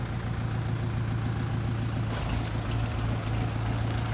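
A tractor engine idles steadily and loudly right after starting without its starter motor, out in a wet cabbage field, with a low chugging drone and no talk.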